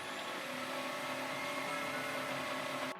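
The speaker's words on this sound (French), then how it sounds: "Et là, je viens tout simplement mixer les deux ensemble." A blender runs continuously at a steady pitch, mixing rice and aloe vera, loud and close with no voices.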